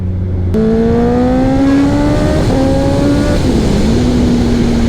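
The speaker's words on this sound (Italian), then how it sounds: "Che goduria sto cambio elettronico. Entrano le marce come uno spettacolo." A sport motorcycle accelerates hard through the gears, its rising engine note stepping up with quick electronic quickshifter changes, loud and close, with no talking.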